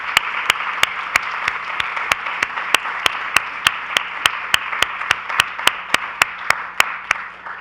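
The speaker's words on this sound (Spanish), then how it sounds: "queremos darle un gran aplauso a este tremendo jurado" An audience applauds the jury at a 2023 advertising brief presentation in Ecuador: a steady wash of crowd clapping, with one nearby pair of hands striking sharply and evenly, about three times a second, throughout.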